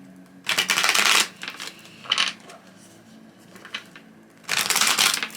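Tarot cards being shuffled in two or three loud, close bursts, with softer handling sounds between them.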